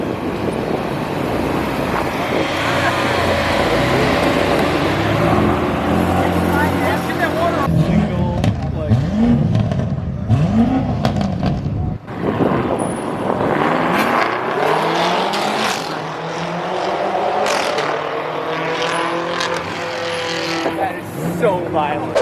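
The first BMW M6 ever made pulls away with a loud, rising engine roar that swells and fades as it leaves, while people talk excitedly over it.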